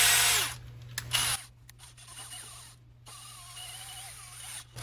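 A ratchet socket tightening a lock nut on a bolt-action build: close mechanical clicking and whirring with brief bursts and pauses, over a steady low hum.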